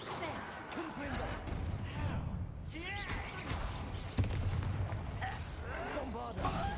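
Hogwarts Legacy combat has a Confringo fire spell blasting amid rapid magical impacts, booms and whooshing effects, with character voices and battle shouts layered over the clash.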